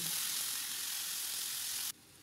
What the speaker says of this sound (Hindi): सबसे पहले तीन टेबलस्पून ऑयल के शामिल किए हैं मैंने और ये चिकन मैं इसमें डाल के थोड़ा सा इसे भून लूँगी